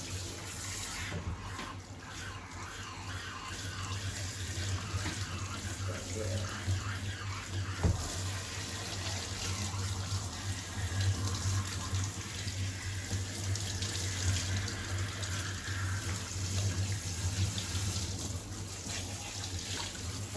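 Water runs steadily from a sprayer as a curly-coated dog is rinsed during grooming, a continuous close hiss over a low hum, with a voice talking quietly at times.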